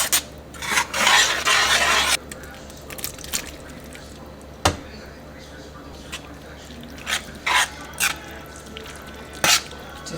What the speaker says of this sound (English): Just mix that up real good.